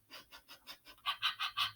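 A dog sniffing and panting, about nine quick rhythmic breathy puffs, close and fairly faint, the last few louder and harsher, with no other sound around them.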